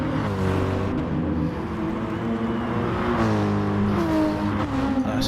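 Race car in a sim racing game at Blue Moon Bay, a steady loud engine drone with rising and shifting revs as cars sail past one another, continuous throughout.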